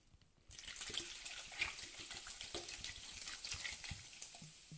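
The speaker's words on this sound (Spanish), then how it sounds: "Bueno, pues le vamos a echar agua con gas." Sparkling water pours over clams sitting in a serving dish, a soft, continuous fizzing splash that starts abruptly and keeps bubbling quietly throughout.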